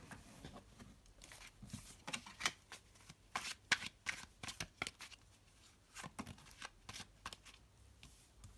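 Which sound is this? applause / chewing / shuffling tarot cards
shuffling tarot cards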